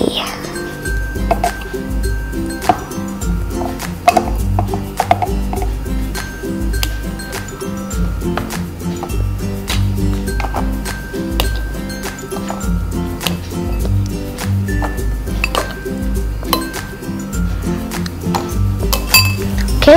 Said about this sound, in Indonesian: Kita masukkan ya teman-teman, dibantu dengan sendok ini.